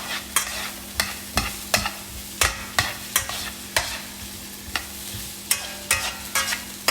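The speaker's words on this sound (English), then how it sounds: "the next thing I'm going to add to the pan will be my broccoli" Broccoli stir-fries in a hot pan, a steady sizzle broken by regular sharp scrapes and clacks of a utensil stirring, close and alone without talk.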